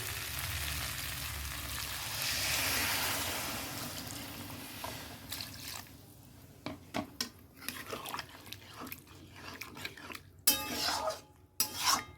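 Water poured into a hot cooking pan on the stove, a loud hissing sizzle at first that fades into quieter bubbling, followed by scattered clinks and scrapes of a utensil against the pan.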